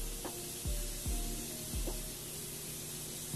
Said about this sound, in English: Last but not least, Morphe setting spray.